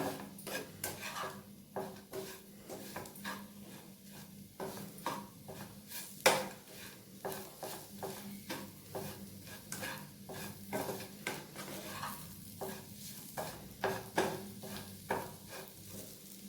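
Bitter gourd (kakarakaya) tossed with masala in a pan, a spoon scraping and clinking in a steady rhythm of repeated strokes over a soft continuous sizzle, close and moderately loud with no talking.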